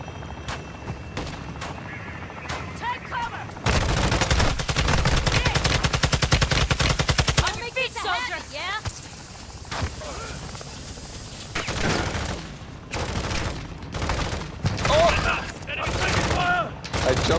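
Call of Duty DMZ firefight: long loud bursts of automatic rifle fire with rapid overlapping shots, then scattered single cracks and short volleys, mixed with game sound effects.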